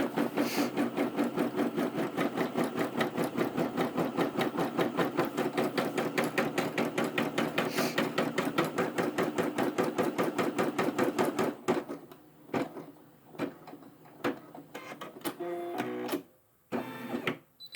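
Brother SE600 embroidery machine stitching a basting stitch around the hoop, a loud, steady rapid mechanical chatter for most of the clip that breaks into short stops and bursts near the end.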